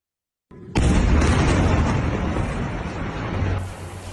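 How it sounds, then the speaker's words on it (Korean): A large explosion from an airstrike on the Gaza Strip at night bursts out of silence with a loud, deep boom, then rolls on as a long, rumbling roar that slowly fades. "어둠이 짙은 가자 지구에 큰 폭발이 일어납니다"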